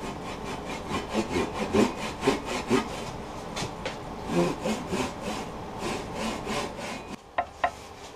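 A cheap hand saw cuts through black walnut in a steady series of rasping back-and-forth strokes, close and moderately loud, ending with a few sharp knocks.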